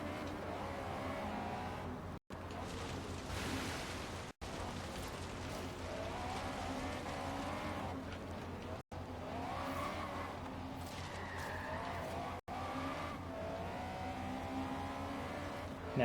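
Honda Civic rally car racing in Forza Horizon 3, its engine droning and revving steadily with tire scrabble, continuous and fairly loud, broken by a few brief dropouts.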